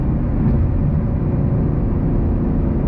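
Deep, steady engine rumble of a 2022 Chevy Camaro SS 1LE, a constant low drone heard from inside the car at cruising speed, with no clear revving.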